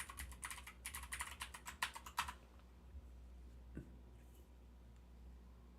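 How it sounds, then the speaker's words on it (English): Rapid typing on a computer keyboard, a burst of close, dense key clicks for about two seconds, then quiet room tone with one faint click later. "Get to hear the glorious keyboard."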